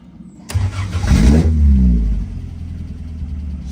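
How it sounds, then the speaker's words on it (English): A 1954 Triumph TR2 long-door sports car cranks and fires, its engine catching with a loud revving burst before settling into a steady, rumbling idle close by. "quick video of start up and idling on this TR2"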